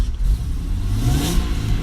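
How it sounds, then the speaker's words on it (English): The engine of a supercharged 1990s Jaguar XJR (XJR6) revs hard up close, a loud, deep roar rising in pitch and holding for about two seconds, with no talk over it. "I'm going to give it a jolly good rev because it sounds awesome"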